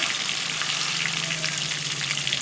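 Fish fries in a pan of hot oil and is turned over, giving a dense, continuous sizzle with a low steady hum, close up and without pause.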